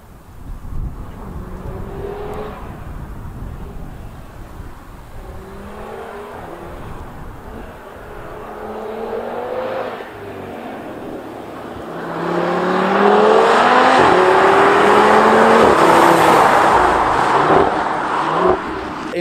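A 2017 Audi TT RS with a sports exhaust drives past, its engine rising from a steady cruise to a louder, closer roar with rising revs before easing off, heard alone with no talk.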